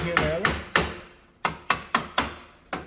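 Nylon mallet tapping a suspension control arm into place during Baja car suspension assembly, giving seven or eight sharp, close knocks at an uneven rhythm with short gaps between them.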